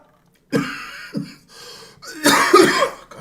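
A man coughs in several harsh, separate bursts, close and fairly loud, with the last burst the heaviest and most drawn out, heard alone in an otherwise quiet room.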